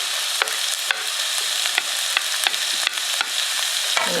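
Onion and garlic stir-fry in sesame oil, a bright steady sizzle broken by regular spatula scrapes and taps roughly every half second, close up with no voices.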